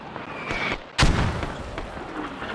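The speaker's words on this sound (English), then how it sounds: "Those mortars were right on it." Mortar rounds slam down in a tactical military video game, one loud close boom landing sharply amid steady distant gunfire and battlefield rumble.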